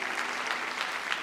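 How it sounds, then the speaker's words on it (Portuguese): A church congregation claps together in steady, dense applause that fills the room without pause for just over a second, with no voices standing out above it. "Quantos podem aplaudir ao Senhor?"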